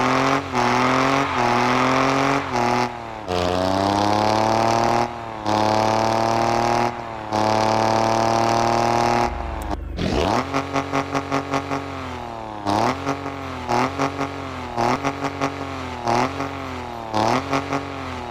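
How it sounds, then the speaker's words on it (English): Modified BMW M3 engine in the Car Parking Multiplayer game, loud and close, with a growling idle and repeated revs rising and falling, then a sharp jump to a rapid, stuttering high-rev burble with quick throttle blips. "I think the car sound of the BMW M3 is pretty good, and I really like the growling."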